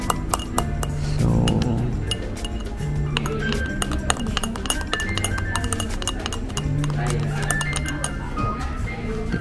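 Spoon stirring egg coffee in a glass at a hidden Saigon coffee shop, a steady run of bright clinks and taps against the glass, close and continuous, with a voice speaking over it.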